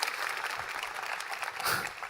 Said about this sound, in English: So extra round of applause for our excellent keynote speaker.